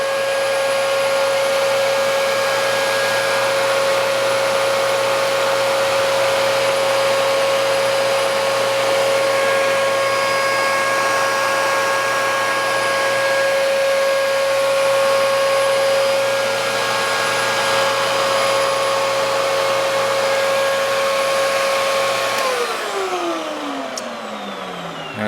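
Dyson DC33 upright vacuum cleaner running continuously with a loud steady motor whine and airflow roar, close up, then winding down in pitch as it is switched off near the end.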